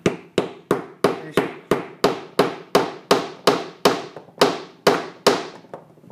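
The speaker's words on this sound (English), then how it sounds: "Take the hammer," A hammer taps a part into place on a workbench in an even rhythm, roughly two blows per second, each hit loud, close and sharply percussive, with no talking.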